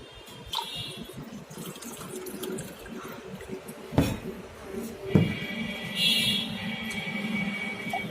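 Filtered water is poured at home, a soft continuous trickle and splash running close by, with a couple of sharper clinks partway through and a brightening fill sound toward the end.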